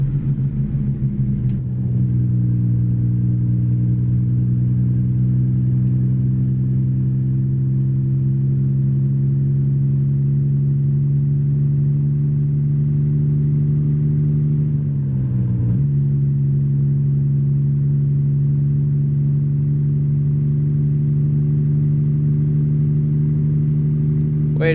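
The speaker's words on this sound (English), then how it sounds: "there is an engine brake on this too" Steady, droning engine-brake rumble from a 1993 Dodge RAM truck mod in a driving video game, holding a constant low pitch for the full stretch with a brief dip midway, loud and alone without talk.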